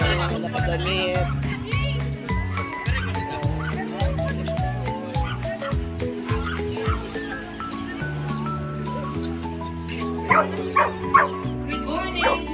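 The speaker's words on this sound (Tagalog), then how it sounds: "Ang dami-dami ng aso." Dogs yipping and barking at a morning pet walk in a park, scattered short barks from several animals heard over loud background music, with people chattering and laughing nearby.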